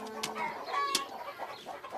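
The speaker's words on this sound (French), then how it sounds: "Caillou n'aimait pas que les poules courent après lui." Hungry hens cluck on a cartoon farm, a quick series of close, sharp clucks and squawks over a couple of seconds.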